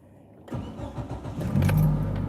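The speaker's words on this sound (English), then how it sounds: "Van is not running too good, but that's okay." A van that is running poorly starts up after a moment of quiet: the engine catches with a cranking burst, then settles into a loud, rough, close idle.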